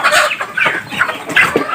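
A Darag native chicken clucks close by in a quick series of about four short, nasal calls with no talk.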